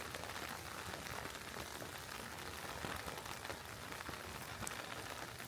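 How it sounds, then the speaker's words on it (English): Steady, fairly loud rain falls outdoors during a bike trip, a dense continuous patter on surfaces close by with no break for the whole stretch. "Rain's actually picking up a little bit."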